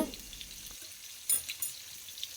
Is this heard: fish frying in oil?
yes